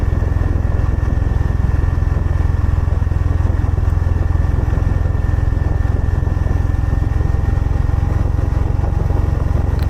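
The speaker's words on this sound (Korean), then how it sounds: "그래서 나는 가끔 오토바이를 탄다." A motorcycle engine runs steadily with a deep, continuous rumble and a low idling throb. It is loud and close throughout, with no talking.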